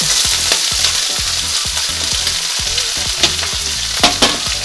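Sardines, oil and pasta ingredients stir-fried in a pan over high heat, a loud continuous sizzle broken by rhythmic scraping and tossing strokes, close and busy throughout with no speech.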